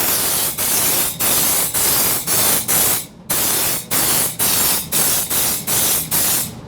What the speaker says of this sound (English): You'll want to spray in several different directions, from the sides, front to rear